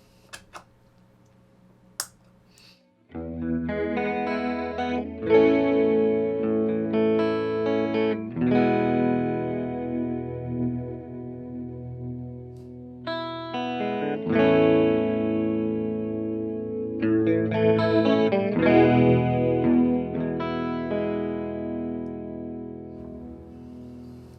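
An electric guitar runs through an OBNE Expression Ramper pedal set to chorus, strumming sustained, shimmering chords that swell and decay in several long phrases, after a couple of sharp clicks at the start.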